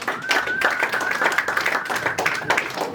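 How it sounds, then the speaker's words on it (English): A comedy show audience claps steadily in a dense, continuous patter of many hands for several seconds, with a voice audible over the applause. "Clap it up, you saving money."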